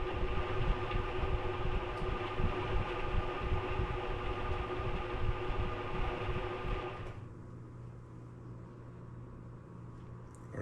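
A honey extractor spinning tangential frames at 50 RPM, giving a steady mechanical whir and rumble that runs evenly, then drops sharply to a quieter hum as it slows.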